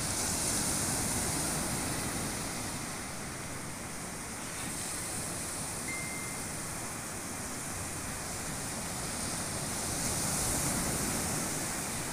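Steady wash of sea waves, a constant broad roar of surf with slow swells in loudness and no voices.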